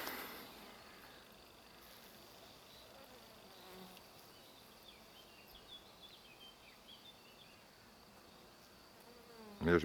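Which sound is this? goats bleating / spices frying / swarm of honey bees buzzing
swarm of honey bees buzzing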